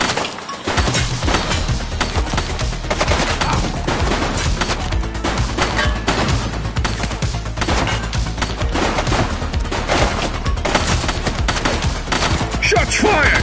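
Rapid, dense gunfire crackles nonstop during a police shootout in The Precinct on PS5, loud and sustained with sharp impacts throughout.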